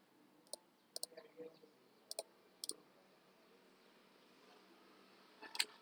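Computer mouse clicks sharply and close by, several single and double clicks spaced irregularly in an otherwise quiet room.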